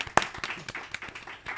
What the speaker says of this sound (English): So let's clap for the Dubai Institute students